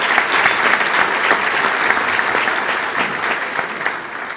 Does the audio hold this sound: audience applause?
yes